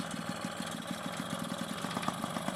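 A Yamaha QT50 moped fitted with an SHA carburetor idles steadily and close by, its small single-cylinder engine putting out an even, rapid putter with no talk over it.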